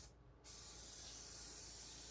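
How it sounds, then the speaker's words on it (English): A steady, loud aerosol spray hiss from a can being purged before painting starts after a brief quiet moment and continues without pause, close to the listener. "You have to spray and purge it out for a few seconds"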